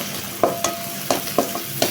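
Large chopped onions and curry leaves frying in hot oil for prawn gravy, a close, loud sizzle punctuated by about five quick spatula scrapes in the pan.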